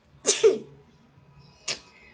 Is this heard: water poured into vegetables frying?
no